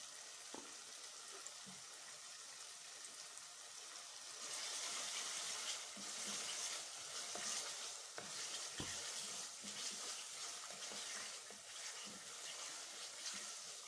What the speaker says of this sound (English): now we'll put some warm water